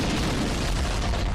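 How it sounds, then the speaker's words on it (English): Grenade explosions in Halo 1 gameplay, a dense, loud rumbling burst of blasts chaining together with no pauses. "I love the explosions of Halo 1, about how grenades can do chain reactions."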